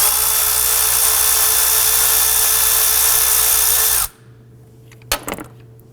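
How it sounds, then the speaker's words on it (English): Socket wrench, likely powered, loosening an 8mm ignition coil bolt on a 2008-2011 Ford Focus 2.0L four-cylinder: a loud, steady whirring drone for about four seconds that cuts off abruptly, then a brief metallic clank. "So we're going to use our 8mm socket. Break that free and loosen it."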